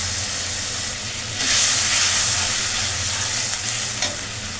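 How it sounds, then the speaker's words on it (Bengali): A cashew-poppy paste with ginger, cumin and green chili hisses and sizzles steadily in a pan after a splash of water. The sound is close and loud, with a brief louder surge partway through and soft stirring under the sizzle. "সামান্য জল দিয়ে মশলা কষিয়ে নেব।"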